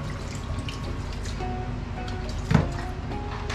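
A small splash of water poured into a pan of vinegar-seasoned fish for paksiw, a faint trickle under low background noise with a brief louder spill midway.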